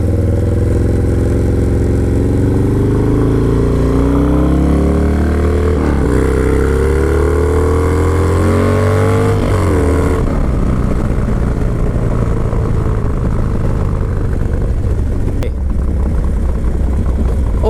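Harley-Davidson Low Rider S FXDLS club-style motorcycle engine revving up and down in several rising and falling sweeps, then settling into a rough, throbbing idle, loud and close with no talk.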